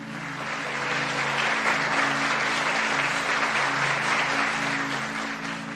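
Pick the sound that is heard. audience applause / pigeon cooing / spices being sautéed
audience applause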